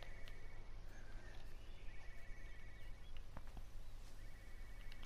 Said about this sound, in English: I hear a phone. Where is it?